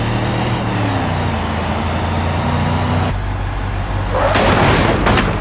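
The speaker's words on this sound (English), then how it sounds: "What a huge crash!" A car crash in the video game BeamNG.drive: a steady engine drone and road roar that cut off abruptly, followed by a loud burst of crunching, scraping impact noise near the end.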